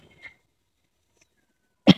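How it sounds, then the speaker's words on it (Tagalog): One abrupt, harsh cough bursts out near the end after a faint short sound and near silence. "Ba't inuubo ka?"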